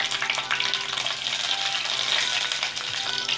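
Green chilies and curry leaves frying in hot oil for a Hyderabadi tomato chicken, giving a steady, close crackling sizzle that runs unbroken with faint stirring clatter mixed in.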